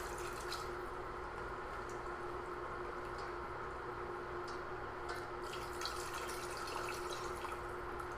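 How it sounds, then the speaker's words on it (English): Liquid poured slowly into a pan of gravy while cooking, a faint continuous trickling and splashing with a little fizzing, steady throughout and without talk. "I'm very slowly going to add my liquid"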